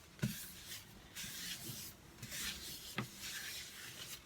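A cloth rubs sanding sealer onto a turned olive wood bowl, giving soft repeated swishing strokes with a couple of light knocks, faint and close.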